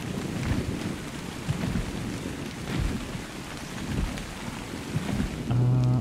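Steady rain pours in ARK: Survival Evolved, with low thunder rumbling through it in slow waves and a heavier swell near the end; no one speaks.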